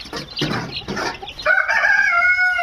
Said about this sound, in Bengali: এইগুলো হচ্ছে আমার মুরগির বাচ্চা